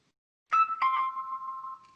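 A mobile phone starts ringing after a short silence, giving a bright electronic ringtone with a couple of quick opening notes and then a sustained tone that fades, moderately loud and alone.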